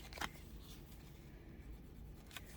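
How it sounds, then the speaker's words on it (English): Gelly Roll gel pen scratching briefly across a matte sticker, with a couple of faint, short strokes in a quiet room. "let me see how my Gelly Roll pen writes on this matte sticker"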